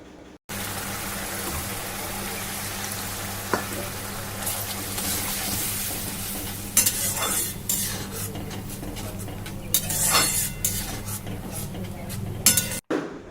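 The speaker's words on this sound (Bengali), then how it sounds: "এবার আমি ওর মধ্যে একটু জল দিয়ে দেব, খুব অল্প পরিমাণে জলটা দেব" A little water goes into a tomato sauce egg curry simmering in a pan, followed by low bubbling, occasional clinks of a utensil against the pan, and a steady hum in the background.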